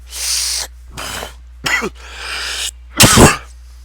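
Several harsh coughs come in separate bursts with brief silences between, close and loud, the last one the strongest.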